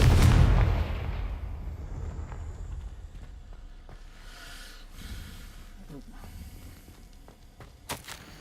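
The Confringo explosive spell goes off in a magic-themed video game: a loud, deep blast at the start fades into a long low rumble, with a few scattered small impacts later on.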